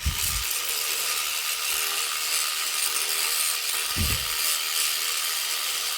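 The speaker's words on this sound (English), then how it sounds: "let's see if we can get that mud off Bobby Roode's leg with the old sonic scrubber" A sonic scrubber works mud off the leg of a WWE wrestling action figure, producing a constant high buzzing hiss throughout, broken by a couple of low knocks.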